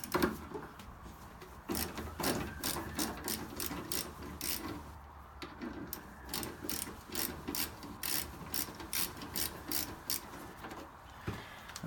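A ratchet driving an 8mm socket on an extension bar clicks rapidly in repeated bursts while backing out a screw during a car rebuild, close and crisp with short pauses between strokes.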